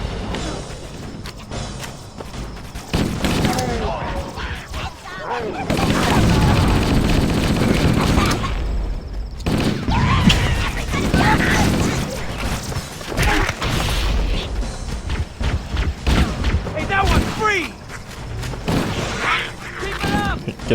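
Covenant stationary guns in Halo firing in long chattering volleys, loud and near, with brief pauses between stretches of fire and game effects layered in.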